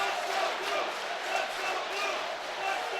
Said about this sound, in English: I'll pause for a second so you can hear this crowd